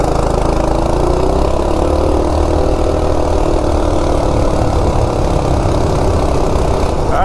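Coleman RSV minibike with a stock 196cc engine and 10-tooth jackshaft sprocket accelerating from 0 to 30 mph, loud, close, steady engine roar holding high revs throughout with a rising pitch, no voices.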